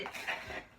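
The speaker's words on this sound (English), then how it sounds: "We mixed Cheeto powder with flour and with some sugar." Cheeto powder, flour and sugar being mixed in a bowl, a short burst of soft scraping and clinking from a utensil against the bowl, close and fairly quiet.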